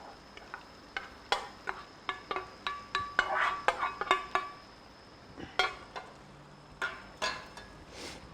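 Peanuts are stirred into a pot of peanut gravy on the stove after chilies were fried in oil. A steady run of sharp scraping and clinking strikes repeats under a soft sizzle.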